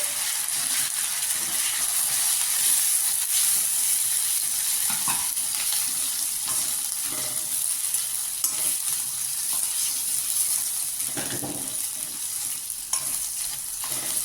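Cucumber masala curry frying steadily in a hot pan with oil, a continuous close hiss and sizzle with faint stirring scrapes, no voices.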